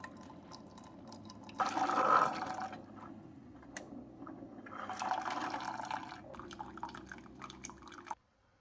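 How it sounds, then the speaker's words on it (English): A Keurig K-Slim coffee maker runs a hot-water rinse through its clogged needles, giving quiet dripping and trickling liquid with two louder surges of flow before it cuts off abruptly. "It's running hot water through both those needles."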